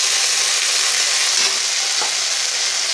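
Loud, close, continuous sizzling as tomato sauce is stirred into chickpeas frying in a pan for chatpata chana, with faint stirring scrapes beneath.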